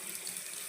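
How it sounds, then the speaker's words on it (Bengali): Okra is rinsed under a running kitchen tap, making a brief, soft, steady rush of flowing water. "আর এখন এখানে ঢ্যাঁড়সটা ধুয়ে নেব।"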